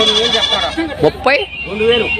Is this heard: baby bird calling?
no